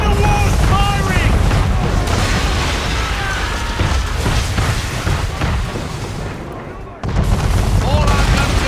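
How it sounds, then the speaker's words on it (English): Man-of-war cannon fire in Assassin's Creed 3 during a naval battle, repeated heavy booms and blasts amid loud battle noise with shouting voices. "Man of war's firing!"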